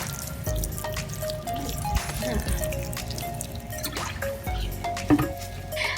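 Water is poured onto a freshly repotted caladium in a pot of new soil, producing a continuous trickle with scattered drips and small knocks, close and moderately loud.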